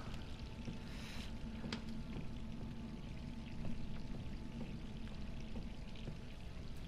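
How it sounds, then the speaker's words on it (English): Water runs steadily from a tap in the video game Resident Evil 3, a continuous close pouring rush with faint clinks now and then. "We probably have to go and turn off that water."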